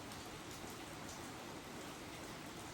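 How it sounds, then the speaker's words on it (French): Heavy rain pours steadily as a dense, even hiss, faint in level but constant, with no voices or other sounds over it. "Ça pleut vraiment fort."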